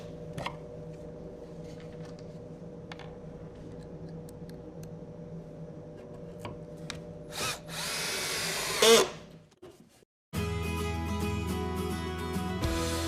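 Pocket hole screws driven through table aprons into wood with a Kreg joinery system, the power drill whirring in short bursts and then one longer sustained run, close and fairly loud over a faint background hum.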